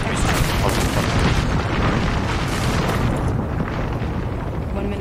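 A continuous roaring, rumbling blast from a bomb explosion in a shooter game, loud and dense throughout, gradually thinning at the top end as it rolls on, with voices faintly underneath.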